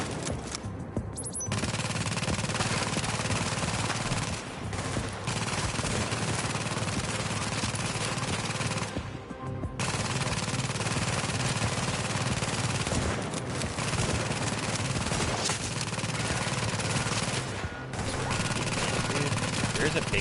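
Turret gunfire in the video game The Division: sustained, loud automatic fire running almost continuously, broken only by a few brief gaps, with speech mixed in.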